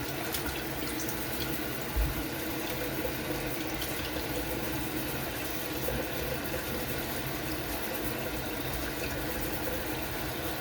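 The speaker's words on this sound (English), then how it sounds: "let me just get a little water in here." Running tap water steadily fills a container at a bathroom sink before a straight razor shave, a continuous broadband splashing hiss that stays even and moderately close, with no talking.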